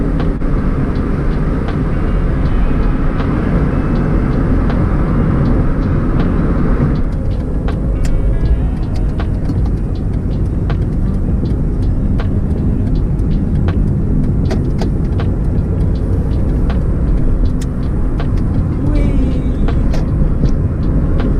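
An old Ford Escort drives along a bypass road, a loud and steady engine and road roar recorded from inside the car for over twenty seconds, with faint voices now and then.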